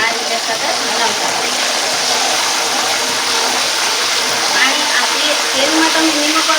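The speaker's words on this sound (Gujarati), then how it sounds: "હવે આમાં અડધી ચમચી જેટલું પાણી આ એડ કરશું. એમાં છાંટા ઉઠશે એટલે થોડું દૂર ખસી જવું" Salted water splashed into hot oil where sweet potato chips are frying, giving a loud, steady, dense sizzle and crackle that runs unbroken throughout.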